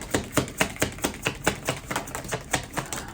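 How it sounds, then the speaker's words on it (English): Tarot cards shuffled in a steady run of about a dozen crisp, papery riffling taps, evenly spaced and close, with no talking. "All right, one more shuffle."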